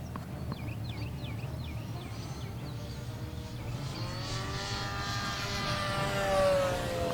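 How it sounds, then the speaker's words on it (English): A Durafly P-40N 1100mm electric RC warbird makes a low pass from left to right outdoors. Its motor whine grows louder and its pitch sweeps as it approaches, rising over steady wind and background noise. "We can do a low pass left to right."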